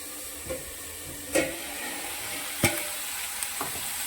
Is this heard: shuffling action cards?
no